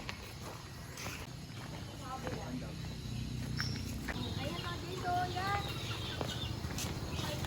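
Chickens at a zoo safari park give brief clucks and calls amid crowd noise and nearby footsteps, with people talking throughout.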